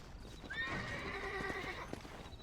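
A horse in the western video game Red Dead Redemption gives a clear rising-and-falling whinny, with a few soft hoof clops beneath it, all fairly quiet.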